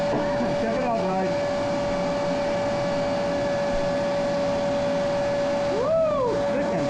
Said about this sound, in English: Vacuum cleaner, baby.